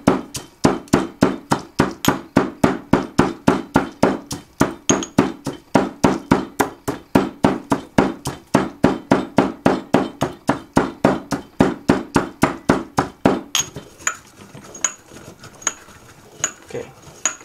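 Mortar-and-pestle grinding and crushing of banishing powder ingredients, a steady run of close, loud rhythmic pounding strikes, about three per second, that gives way near the end to softer scraping and clinks.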